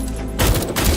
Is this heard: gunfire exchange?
yes